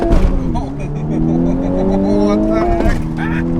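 A 2024 Ford Mustang Dark Horse with a manual gearbox accelerates hard, its engine note climbing steadily before a sharp gear change drops the pitch and it pulls again. A voice speaks briefly over the engine.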